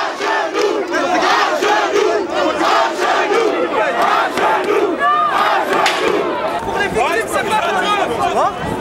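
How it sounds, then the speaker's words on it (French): Crowd of protesters at a street demonstration chanting a militant slogan in unison, loud, dense and continuous, with many overlapping voices and shouts throughout. "Le célèbre slogan militant est repris par les manifestants qui lèvent le poing en signe de résistance."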